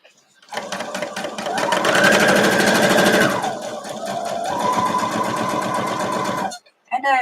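A sewing machine stitches a quilt block using a red quarter-inch presser foot, running in a steady fast whir for about six seconds with a slight change in pace midway, then stopping abruptly.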